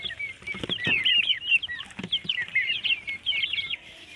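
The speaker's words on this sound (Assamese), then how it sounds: "আৰু চিল্কি পোৱালি আছে" Silkie chicks chirp constantly in high, busy peeps, with occasional lower clucks and bumps, close and moderately loud throughout.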